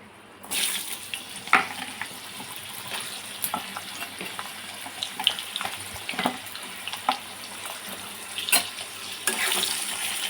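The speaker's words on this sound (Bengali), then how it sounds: "কড়াটা ভালো করে ধুই" A wok is washed under a running kitchen tap, water splashing steadily with scattered clinks and scrubbing knocks, close by.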